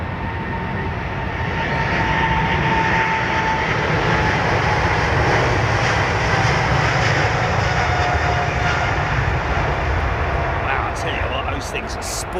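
Airliner jet engines spool up for departure on runway 27R, a loud, steady, close roar with a faint whining tone that holds throughout and eases slightly near the end.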